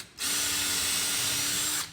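A power drill bores a pilot hole in wood in a home garage, giving one steady high-pitched whir of under two seconds that starts and stops abruptly.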